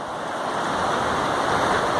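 A waterfall along the Gomukh trek in the Himalayas sends down a constant, dense rush of falling water, steady and loud with no break.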